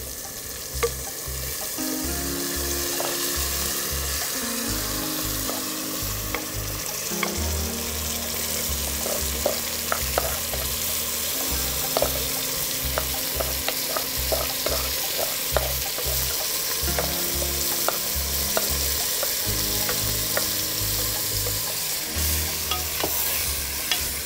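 Soaked rice tossed into a pot of frying onions for khichuri, stirred steadily with scraping strokes over a continuous sizzle, with low rhythmic thumps beneath and occasional clinks.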